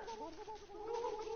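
Turkeys gobble in a survival video game, a short burst of warbling, clucking calls heard close and fairly quiet, with no talking.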